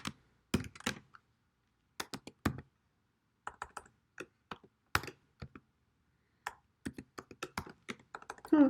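Someone types on a computer keyboard in short irregular bursts of close, crisp key clicks separated by brief pauses, the tapping picking up density toward the end.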